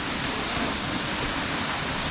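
Waterfall at Mainpat rushing as a dense, steady hiss of falling water, continuous and fairly loud, with no voices over it.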